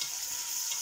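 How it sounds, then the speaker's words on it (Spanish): Onion and a stew base for braised beef sizzle steadily in a pan, a continuous close frying hiss with no break and no voices. "Lo rehogamos otros 5 o 6 minutos"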